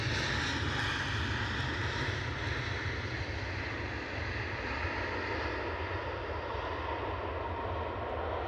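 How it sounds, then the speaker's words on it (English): An inbound Ryanair airliner approaches Edinburgh Airport with a steady, broad jet engine roar that stays loud throughout, mixed with some wind noise and no talking. "that inbound Ryanair really ain't far away."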